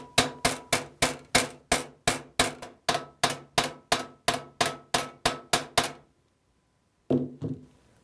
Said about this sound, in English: Place the plate on a vise and reform the hole with a hammer. Use many light blows like this.